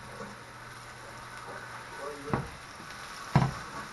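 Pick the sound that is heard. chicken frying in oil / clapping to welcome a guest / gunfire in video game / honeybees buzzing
chicken frying in oil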